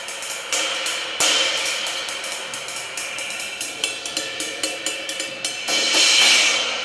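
A heavily hammered Zildjian cymbal struck repeatedly with a stick, bright shimmering metallic hits with clear stick attack, a series of separate strikes and a louder wash near the end, close and alone.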